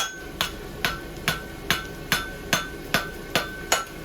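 Steady hammer blows ring out on a steel bar at the anvil while the toe of a horseshoe is forged, ten evenly spaced metallic strikes, close and clear.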